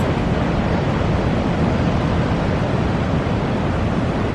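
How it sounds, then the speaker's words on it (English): Strong sea waves break on the beach at St Agnes, Cornwall, a loud, continuous roar of surf with rushing wash and no pauses. "that absolutely astonishing, magnificently strong sea which is breaking behind me. They are monster waves."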